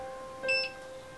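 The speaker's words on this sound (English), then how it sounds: "This thing is still beeping." A device gives a single short electronic beep, clear but fairly quiet, against a faint steady hum in an otherwise silent room.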